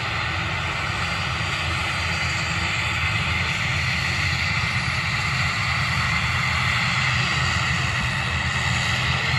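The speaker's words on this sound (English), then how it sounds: "over here we have a Logan Air ATR 72 600 coming in from the Isle of Man" A Logan Air ATR 72-600 turboprop, arriving from the Isle of Man and landing at Manchester, gives a steady, broad engine roar that holds evenly loud throughout with no voices.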